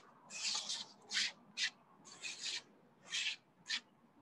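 A scraper gathering spilled plaster into a dustpan, heard as short, close scraping strokes in an uneven rhythm, several longer rasps mixed with quick single scrapes against a quiet background.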